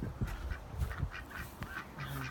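Backyard ducks quack and honk close by in a short series of nasal calls, several birds overlapping in an uneven rhythm.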